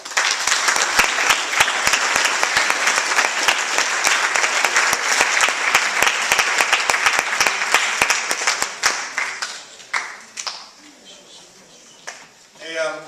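Audience applause at a Marin County Fair evening event, a loud, dense round of clapping lasting several seconds before thinning out into scattered claps and voices as talk resumes.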